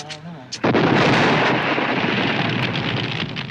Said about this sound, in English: The result is a gut-busting explosion with flames and smoke shooting out the car windows.